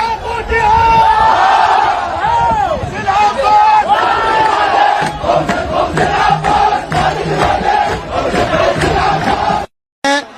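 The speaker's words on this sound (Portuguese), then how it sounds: "Tem uma torcida barulhenta." A noisy crowd of supporters of a Brazilian-named local football club roars, chants and whoops loudly and continuously, with horns or whistles cutting through, before a brief drop to silence near the end.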